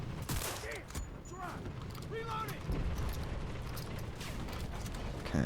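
Gunfire in the shooter game Enlisted, a steady clatter of distant shots and short bursts over constant battlefield rumble, with voices talking over it.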